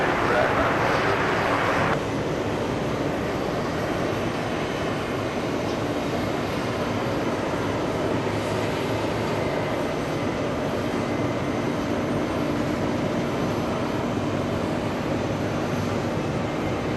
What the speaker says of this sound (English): We have a little CRJ 900 being pushed back from Alpha 9.